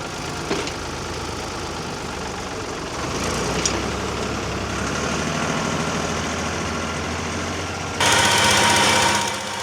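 A 1976 Ford 36 tractor, pre-Q cab, runs at a working event with a steady engine drone throughout, rising louder toward the end.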